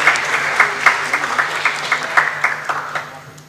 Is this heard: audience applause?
yes